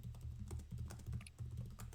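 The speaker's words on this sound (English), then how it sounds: "Several people are typing." Several people typing on computer keyboards during a tabletop game session, a quiet, overlapping patter of key clicks in irregular bursts across two seconds.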